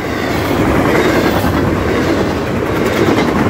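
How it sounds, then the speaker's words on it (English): A long freight train rumbles past close by, its wheels clacking rhythmically over the rails in a loud, continuous roar with faint squeal, no voices. "This has got to be a real long train."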